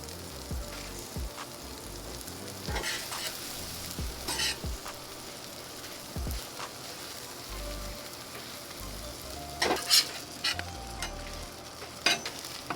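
Birria tacos stuffed with meat and cheese frying in a pan, a soft continuous sizzle with intermittent scraping and clattering handling noises, close and moderately loud, no talking.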